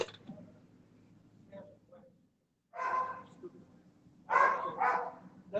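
Indoor dogs bark in short bursts, a few faint yips first and then two louder clusters of barking close by, heard over a low steady household hum.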